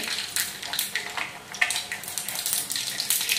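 Mustard seeds crackle and sizzle in hot oil for a tempering, giving a continuous bright hiss with dense popping bursts, close and fairly loud, with no talk.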